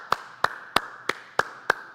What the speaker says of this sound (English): Can we give Christine a huge round of applause?